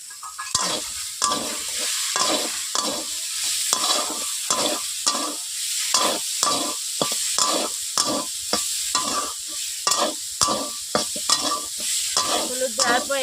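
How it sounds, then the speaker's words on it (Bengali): Potato, eggplant and bitter gourd frying in a pan while being stirred, loud steady sizzling with rapid, regular scraping strokes of a spatula up close, no voices. "এইভাবে আমি নেড়ে দিচ্ছি বন্ধুরা"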